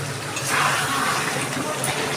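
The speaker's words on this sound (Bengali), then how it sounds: "এবার সামান্য জল দিয়ে দিচ্ছি।" Water is poured into a pot of chicken being cooked for Dhaka-style chicken tehari, a soft, brief splashing pour heard close and fairly quiet.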